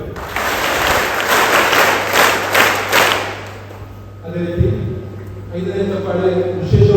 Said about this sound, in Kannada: ಅವರೆಲ್ಲರಿಗೂ ಕೂಡ ಈ ಚಪ್ಪಾಳೆ ಕೇಳುವ ಹಾಗೆ